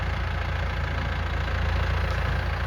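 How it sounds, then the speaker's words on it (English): Riding mower or tractor engine idling nearby, a steady loud low rumble with a constant mechanical throb throughout, no talk. "Oh, it is a mower."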